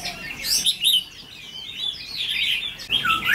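A red-whiskered bulbul decoy bird calling: loud, close, bright whistled chirps and warbling phrases in repeated bursts, with brief pauses between them.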